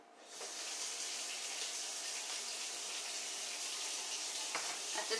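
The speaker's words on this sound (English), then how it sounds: "while the water's running a little bit" Cold water pours steadily from a kitchen tap for gravy mix, a constant soft rushing hiss with a couple of faint clinks, close and alone.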